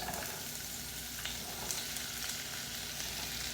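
Green bell peppers, with onions, sizzle steadily in a hot pan, a dense, even hiss with faint crackles heard up close with no talking.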